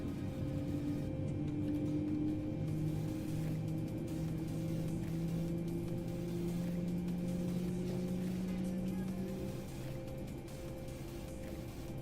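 A Boeing 787-9 airliner engine spools up in Microsoft Flight Simulator 2020, a steady droning hum with rising and shifting whining tones that holds for the whole stretch.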